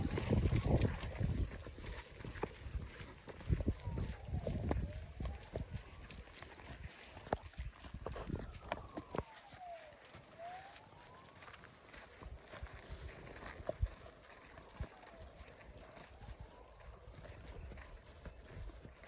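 Steady clip-clop of a mare's hooves plodding along at a walking pace, fairly faint, against a rumbling background with occasional creaks and knocks.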